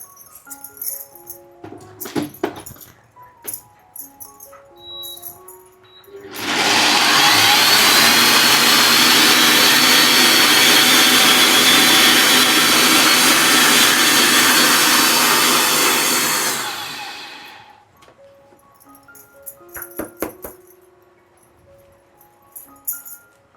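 A mixer grinder blends chutney for a fasting-day sabudana chila meal, a loud steady whir running continuously for about ten seconds before cutting off, with quieter kitchen sounds around it.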